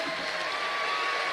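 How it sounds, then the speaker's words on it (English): A large crowd applauding athletes at the 2022 National Games closing ceremony in Tasmania, a steady wash of clapping and faint cheering with no breaks. "let's give another round of applause to our incredible athletes"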